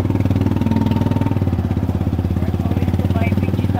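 A Manila tricycle, a small motorcycle with a sidecar, runs loud and close, its engine chugging in a steady rapid idle pulse throughout, with people talking faintly beneath.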